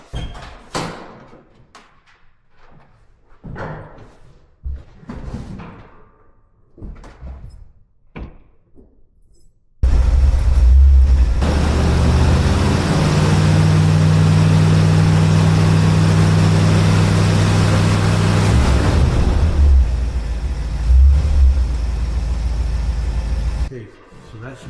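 A 1971 Corvette engine starts after an oil change, then settles into a loud, steady idle that runs for about fifteen seconds before shutting off; people talk quietly beforehand amid faint handling noises.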